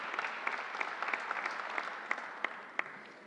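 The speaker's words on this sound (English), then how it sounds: "Let's give them a great round of applause" Applause from an audience at an event at Suffolk Community College in New York, a moderate scattered clapping at a distance with a few sharper individual claps standing out, fading gradually.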